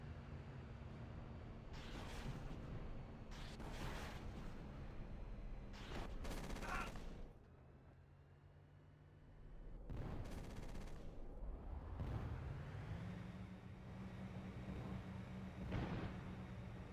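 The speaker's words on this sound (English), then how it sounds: "Shifting mortar fire to support." Mortar fire in a military simulation video game: heavy rumbling bursts of explosions and gunfire in several clusters, loud and booming, with radio-style voices between them.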